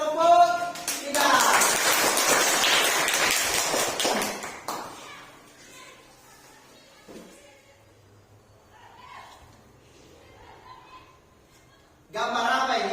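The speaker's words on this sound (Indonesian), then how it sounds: "Beri aplaus untuk kelompok 3." Applause for a classroom team after a quiz point, a burst of hand clapping lasting several seconds, loud and fairly close, fading out, with a teacher's voice speaking afterward.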